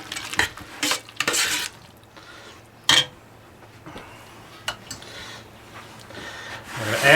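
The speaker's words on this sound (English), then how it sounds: "Mix the noodles and macaroni up." Noodles and macaroni being stirred together in a dish for copycat Stouffer's mac and cheese, with irregular scraping and clinking of a utensil against the dish, some sharper knocks, close up and without talk.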